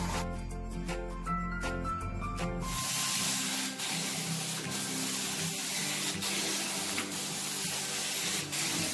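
Cleaner sprayed in a steady continuous hiss while pre-spraying during a cleaning job on a second floor in freezing winter conditions. The spray runs loud and close through most of the stretch, after a brief patch of tonal noise at the start.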